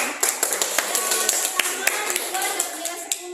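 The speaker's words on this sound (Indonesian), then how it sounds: "Wes, tepuk tangan untuk Bella dulu." Classroom students give a short round of clapping for a classmate, distinct claps close together in an uneven patter, with a voice talking faintly underneath.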